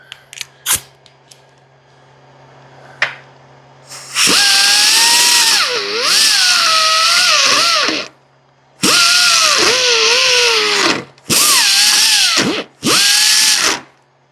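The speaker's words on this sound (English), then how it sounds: "Just going to use this little die grinder in there, try to clean it up a touch." A small die grinder cleans paint and primer from a 1979 Ford F350 Supercab truck frame in several loud, whining bursts of a few seconds each. The pitch dips under load, and short quiet pauses and clicks fall between the bursts.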